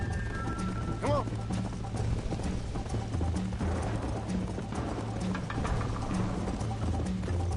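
Horse hooves galloping in the video game Red Dead Redemption, a rapid rhythmic clip-clop under game music and a whinny, with voices talking over it.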